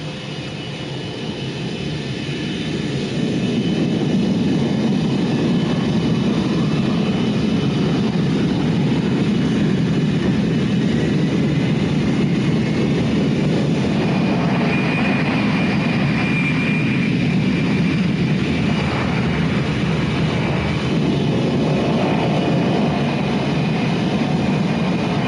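Steady, loud broadband roar of an airliner flight simulator running, a continuous engine-like rumble with faint tonal whine that stays constant for the whole stretch with no talking.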